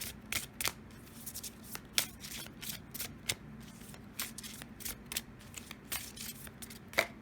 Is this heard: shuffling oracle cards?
yes